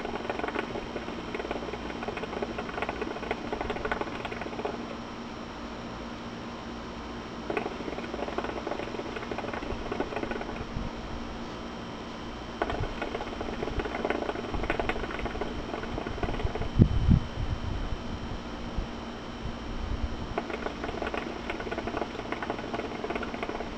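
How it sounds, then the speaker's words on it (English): Wind gusts outdoors during a hookah session, producing a broad rushing noise that swells and drops in waves across the whole stretch, with no talking. "So wind is pushing a little bit, but monstrous clouds."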